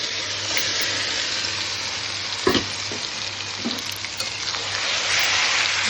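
Marinated chicken pieces fry in a pan for a Bengali-style chicken curry, a steady close hiss with a few scraping stirs partway through and a low hum beneath, with no talking.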